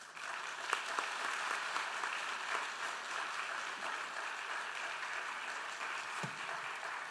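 A church congregation at a Sunday service applauds a missionary from the Philippines, with steady, fairly soft clapping from many hands filling the room for several seconds.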